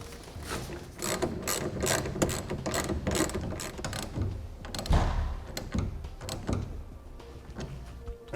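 A hand ratchet tightens the center clamps of a TruXedo TruXport soft roll-up tonneau cover on a 2014 pickup, giving rapid bursts of close, crisp clicking in repeated strokes with brief pauses between them.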